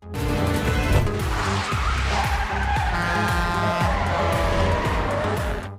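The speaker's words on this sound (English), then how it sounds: "The two men dodged on the highway and began a life and death chase." A highway car chase from the film Faster, with tires skidding and engines roaring in a loud, continuous rush of motor and tire noise that never lets up, and no talking.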